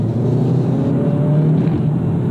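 Steady engine drone of a 2017 Kia Optima SX Limited accelerating from inside the cabin, a loud continuous low hum with faint road noise and no talking.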